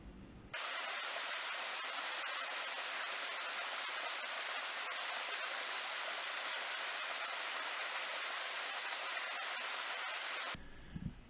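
Steady, unbroken rush of a small waterfall on a rocky Dobongsan mountain trail, water spilling into a pool below; broadband hiss holds evenly throughout, close and fairly loud, with no voices.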